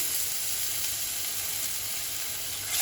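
Ginger, garlic and green chilli paste sizzles in oil with a pinch of asafoetida on a low flame, giving a steady, even hiss close by without any talking.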